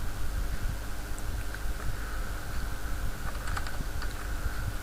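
Typing on a computer keyboard, a steady stream of quick light key clicks with a few sharper taps, heard alone over a constant low hum.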